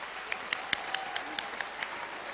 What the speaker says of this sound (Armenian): ծափահարեք ինքներդ ձեզ